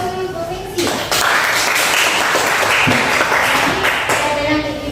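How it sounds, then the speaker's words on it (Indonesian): A classroom group of students claps for a classmate in a lesson on plant diseases, a dense patter of hands lasting about three seconds while a teacher's voice speaks before and over it. "Kasih aplaus dulu untuk Viksi."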